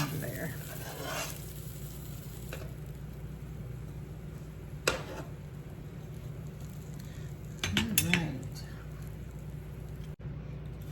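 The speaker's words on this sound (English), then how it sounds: "Close up my tuna melt. Slide her to the side. Let it finish cooking over there." A tuna melt sandwich cooking on a griddle, a quiet continuous sizzle with a few scattered metallic taps and a brief louder clatter of a spatula near the end.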